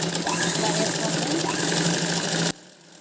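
A sewing machine runs steadily while stitching a seam on a baby frock, a close, even mechanical whir that stops abruptly near the end.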